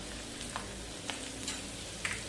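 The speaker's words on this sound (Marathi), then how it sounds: "चांगली फोडणी हलवून घ्यायची." Garlic, curry leaves, asafoetida and chilli pieces sizzle in hot oil for a tempering, with a steady low crackle and a few sharper pops and stirring scrapes, close by with no talk.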